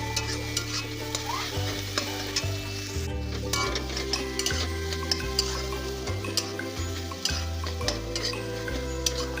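Scrambled egg chunks are stirred in a frying pan with a soft, continuous sizzle and frequent light scrapes and taps of the spatula. Faint background music plays underneath.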